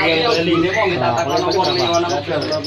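Soft, repeated cooing of zebra doves mixed with busy chirping birds at a bird market, steady throughout and close by, with voices murmuring underneath.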